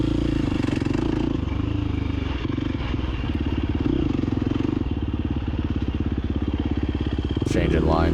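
A dirt bike engine in the TORCS racing video game on a harescramble course drones steadily and buzzes throughout at a rapid pulsing rate, loud and close, with a brief clattering change near the end.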